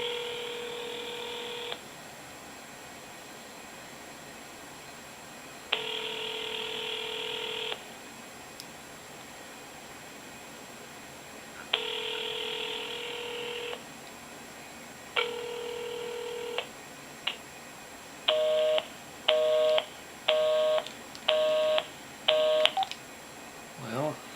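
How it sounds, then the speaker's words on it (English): A telephone on speakerphone rings with long repeated tones, then a quick rapid series of keypad dialing beeps follows near the end, loud and close with no talk over it. "I'm going to try to call. And then I got to try to put it on speakerphone."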